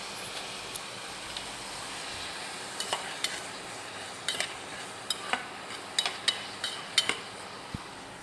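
Onions sauté in a pan for paruppu kuzhambu, with a low, steady sizzle under scattered sharp clinks and scrapes of a spoon stirring against the metal, quiet and close.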